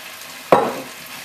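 Stuffed eggplant being stirred as it fries in a pan, seasoned with salt and lemon juice: one quick scraping, sizzling burst that fades, with near-quiet kitchen hiss before and after.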